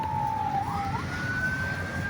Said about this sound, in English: we hear some first responders blaring at sirens